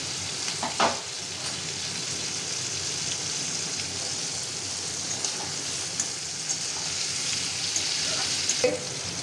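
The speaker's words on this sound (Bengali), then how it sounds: "চিংড়ি মাছটা বেশি ভাজবেন না, হালকা করে ভাজবেন" Shrimp fry lightly in a pan with a continuous moderate sizzle, bubbling oil and occasional stirring clinks, steady and close with no voices.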